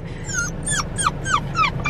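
A puppy on its first car ride whimpers in a rapid series of about six high, wavering cries over a low, steady road rumble.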